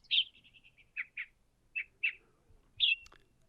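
Birds in trees give a series of bright, short chirps and tweets, some in quick runs and others as single notes with brief pauses between, clear against an otherwise quiet background.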